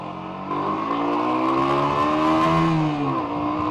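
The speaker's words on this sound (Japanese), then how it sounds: "加速時の、ンバーっていう音がいいですね" A Honda CB125T motorcycle accelerates along the Nishi-Izu Skyline, its engine note climbing steadily through the gears, loud and close with wind noise, no talking.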